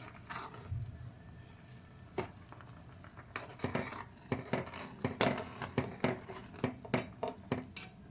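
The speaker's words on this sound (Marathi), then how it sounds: "एका हातानं हलवायचं, एका हातानं असं घालायचं आणि नॉनस्टॉप फिरवायचं आहे" Flour stirred nonstop into boiling water seasoned with salt and crushed peanuts for a chickpea-greens gargate, quiet at first, then rapid rhythmic scraping and clacking of a spoon against the pot, close and without voices.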